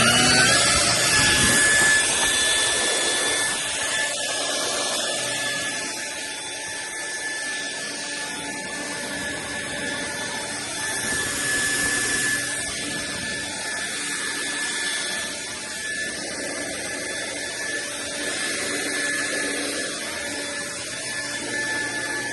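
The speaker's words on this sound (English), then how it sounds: "Let's blow out some of the dust." Dust is blown out of freshly drilled holes in a concrete block foundation wall, giving a continuous hissing blast of air that swells and fades in several long bursts.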